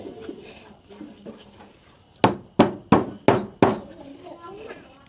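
Five sharp, evenly spaced hammer blows on nails ring out close by during house construction, following a stretch of quieter tapping and background chatter.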